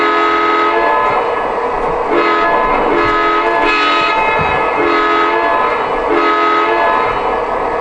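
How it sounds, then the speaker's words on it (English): The horn sound effect of a Lionel model Norfolk and Western ALCO Century 420 diesel locomotive sounds in repeated long blasts with short gaps, loud and close, over a steady engine rumble, with no talking. "Here's the horn."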